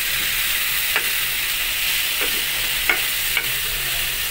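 Chicken tinola cooking in a pot gets stirred, a soft steady hiss broken by a few faint scrapes and clinks of a utensil.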